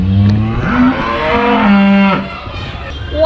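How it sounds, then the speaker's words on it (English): A cow moos loudly and close, a long drawn-out low call with a shifting pitch, heard on a street in Malleshwaram, Bangalore. "Cow."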